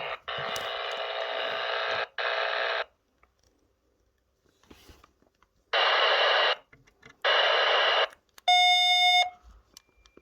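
Sony walkie-talkie powered from a 4.5 to 5 volt supply, picking up a radio signal: loud bursts of hissing transmission noise in several blocks, ending in a short beeping tone, with no talk.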